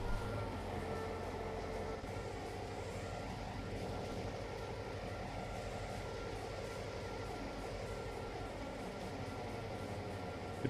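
Coal train running in the video game Trainz: A New Era, a continuous low engine drone with steady wheel and rail rumble, even and unbroken, heard close without any talking.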